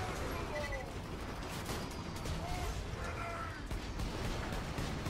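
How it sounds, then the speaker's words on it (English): Gunfire in the video game Borderlands 2 rattles in rapid, layered bursts and thuds over a dense, noisy battle mix, continuous and loud throughout, with a player's voice talking over it. "I should probably be shooting back"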